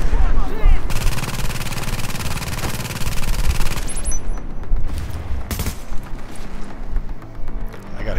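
Dense rapid gunfire from a hard-mode video game run, a sustained loud fusillade of machine-gun bursts with sharp cracks and booms, ending in scattered shots.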